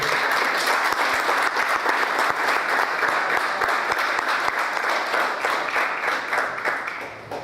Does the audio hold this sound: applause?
yes